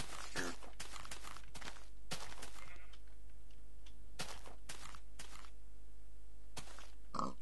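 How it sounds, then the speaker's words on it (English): Pigs in the game Minecraft, with a few short grunting calls scattered among soft blocky footsteps, fairly quiet and intermittent with gaps of near silence. "Okay, we now have three pigs."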